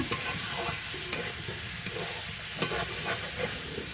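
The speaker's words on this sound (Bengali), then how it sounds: "এবার এই মশলার মধ্যে আমি ভেজে রাখা আলু আর পটলটা ভেজে রাখা পটলটা দিয়ে দিচ্ছি এটা তো মশলার সঙ্গে কিছু সময় কষিয়ে নিতে হবে" Fried potato and pointed gourd stir-fry in a spice masala in a pan in a village kitchen, a dense continuous sizzle heard close up, with scraping stirs at regular intervals and no voices.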